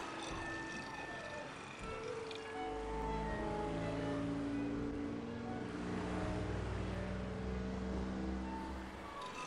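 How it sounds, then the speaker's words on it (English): Gasoline outboard motor running on a boat: a continuous low engine drone with shifting harmonic tones that swell and fade slightly, heard alone without talking. "to turn on an outboard motor, this man uses gasoline"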